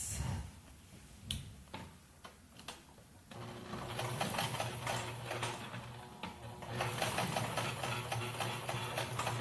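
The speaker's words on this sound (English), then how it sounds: "So I come in about a 1/2 inch and start sewing" A sewing machine stitches across thick pleated face-mask fabric: a few sharp clicks first, then a continuous close mechanical whir with rapid needle ticking that runs steadily to the end.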